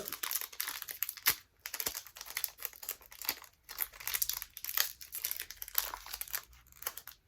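Clash des Rebelles trading card booster packs being torn open, with bursts of crinkly foil wrapper tearing and crumpling that come in quick irregular bursts close up, with no voices.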